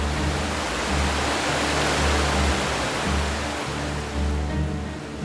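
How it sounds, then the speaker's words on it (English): Palouse waterfall plunging into its deep canyon plunge pool, a steady, loud, broadband roar of falling water with a low rumble, continuous and unbroken with no voices. "visit the spectacular Palouse waterfall"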